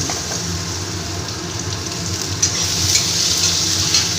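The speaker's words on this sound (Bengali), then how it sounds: "ওই তেলের মধ্যে আমি এই যে ডুমো ডুমো করে আলু কেটে নিয়েছি আলুটাকেও ভেজে নিচ্ছি" Diced potatoes frying in hot oil, a steady close sizzle with a bright hiss that swells slightly and pops a few times toward the end.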